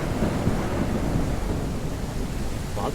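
Thunder rumbles through a video game rainstorm with wind, a steady low roar of rain and distant rolling thunder filling the whole stretch, loud and continuous.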